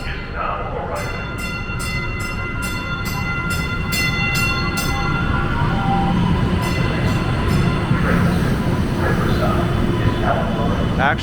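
A Boston subway train (the T, B line) rumbles steadily on the rails arriving at a station, growing slightly louder, with a series of short evenly spaced high beeps early on and an announcement voice over the noise.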